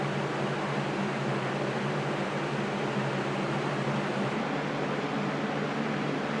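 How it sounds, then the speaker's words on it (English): A small 12V fan blows air from a DIY ceramic space heater with brick thermal storage, giving a steady, moderately quiet whoosh with a faint low hum and no variation. "The fan's actually grabbing the heat and blowing it out into the room"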